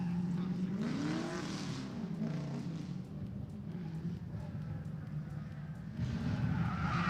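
A Scion FRS and a blue and orange BMW drift car battle on track, engines roaring at a distance with rising and falling pitch as a commentator talks over the noise.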